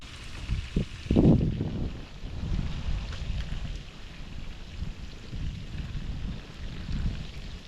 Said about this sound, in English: the wind is blowing, but the breeze is actually dying down a little bit now